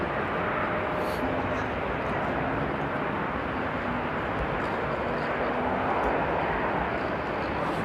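Airliner taking off and climbing steeply at Amsterdam Airport in strong storm winds, a steady broad jet roar mixed with gusty wind rumble, at moderate distance, with voices talking over it.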